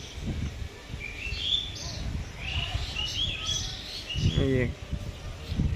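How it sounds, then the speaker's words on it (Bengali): Small birds chirp and tweet outdoors in short, thin calls scattered across the clip, moderately faint over a low rumbling background with some muffled noise. "পাখি ডাকছে সব"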